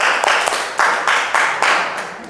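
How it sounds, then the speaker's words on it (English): Students clapping in a classroom for a classmate, several short bursts of hand claps that start and fade in waves, fairly close and moderately loud, with no talking over them. "Give applause please to Mbak Iko."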